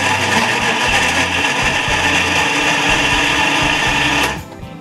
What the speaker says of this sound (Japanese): こちらのミキサーにはバナナ2本と今牛乳が入っております